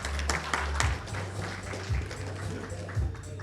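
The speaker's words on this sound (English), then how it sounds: "Give him a round of applause." Audience applause at a Play Expo Blackpool talk, a brief burst of close, crackling clapping that holds steady over a low background hum.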